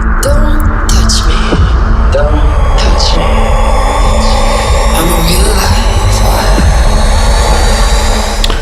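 Loud, steady airplane engine roar fills a film trailer set aboard a plane. It runs continuously as a dense rushing drone, with brief sharp impacts and effects scattered over it.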